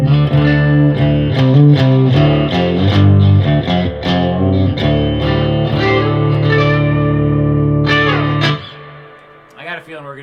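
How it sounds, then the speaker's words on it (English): A clean electric guitar rings through a reverb effect, plucked notes and chords blooming into long washy tails, close and loud, before the sound drops away near the end with a brief trailing noise. "Reverb still works."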